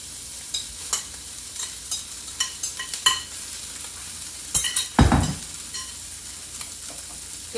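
Steady frying sizzle in a pan with shredded rotisserie chicken, scattered clinks and scrapes of a utensil stirring, one louder clatter partway through, no talking.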